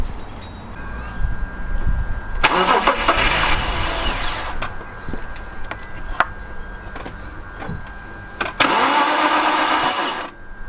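An engine cranks and starts, settles into a running rumble, then is cranked again later; a steady tone sits underneath throughout.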